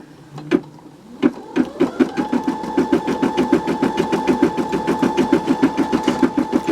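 A multi-needle embroidery machine stitches the eyes and mouth of an in-the-hoop Christmas ornament, starting up after a couple of clicks into a steady, rapid mechanical chatter with a faint whine, close and continuous.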